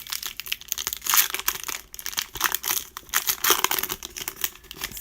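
Crinkling foil wrapper of a baseball card pack being torn open and handled, a steady close run of crackles and rustles with no talk.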